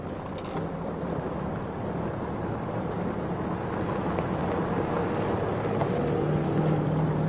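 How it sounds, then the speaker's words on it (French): Hundreds of military vehicles in a convoy stretched over 40 km grind along stony desert tracks among thorn scrub and dunes, heard as a continuous, muffled engine rumble at moderate distance, with no voices. "Des centaines de véhicules étirés sur 40 km."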